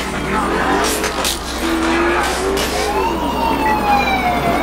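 A police car siren in GTA IV, a loud wailing tone sweeping up and down over rumbling traffic and engine noise, continuous and close, with no speech.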